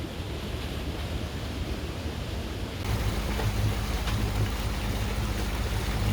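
Boats pulling out of a river lock on the Illinois River, a low steady engine rumble that grows louder partway through, with wind and water noise washing over it and no talking.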